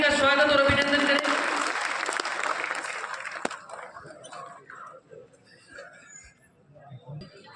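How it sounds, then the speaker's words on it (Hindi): An audience at a talent honour ceremony in Bikaner claps loudly and continuously in a dense burst, and the applause tapers away over several seconds to scattered claps and quiet murmur. "एक बार जोरदार ताली बजा करके इनका स्वागत और अभिनंदन करें।"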